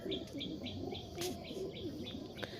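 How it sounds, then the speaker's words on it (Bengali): A pigeon coos in soft repeated rolling calls, close but fairly quiet, with other birds chirping and a brief flutter in the background at a home rooftop. "কীভাবে ডাকছে দেখো পায়রাটা।"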